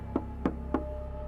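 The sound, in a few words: knocking on a cabin door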